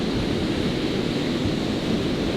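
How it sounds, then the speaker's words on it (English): Hefty ocean waves break on the Tasman Sea at the northern point of Culbar Beach, making a steady, loud, close roar of surf mixed with wind buffeting the microphone. "get a view of the Tasman Sea right on the northern point of Culbar Beach with some nice hefty waves coming in"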